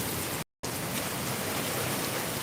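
Steady rain pouring in Darbhanga, a broad continuous wash of falling drops that drops out for an instant before carrying on, with no voices.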